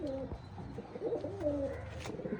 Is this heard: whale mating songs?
no